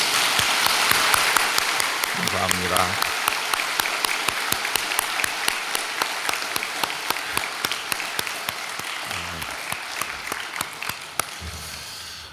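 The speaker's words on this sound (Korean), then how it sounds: "우리 다시 박수하겠습니다" A church congregation at a special dawn prayer service applauds in a large sanctuary, with sustained, even clapping that holds for many seconds and slowly fades; a voice speaks briefly over it.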